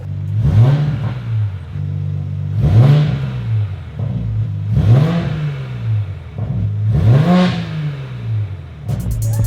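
An MK5 Toyota Supra fitted with a new intake and exhaust revs four times in even succession, each blip rising sharply and falling back to a loud, close idle between pulls.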